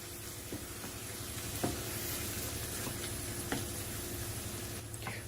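Cream cheese filling being stirred in a hot pan, a steady close sizzle and hiss with soft scraping and a few faint taps throughout, no voices.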